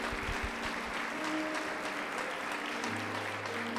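A church congregation at an evening worship service claps together in sustained, dense applause, steady and fairly loud throughout with no break.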